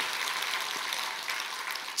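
Congregation applauding in a church, a steady wash of many hands clapping at moderate level throughout, fairly distant and diffuse, with no voices over it.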